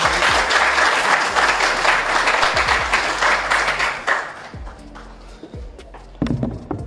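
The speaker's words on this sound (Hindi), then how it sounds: "आप सबकी भरपूर तालियों में मैं दावत दूंगा यासिर शामी को" A crowd breaks into dense, sustained applause to welcome Yasir Shami to the stage, loud for about four seconds before thinning into a few scattered claps.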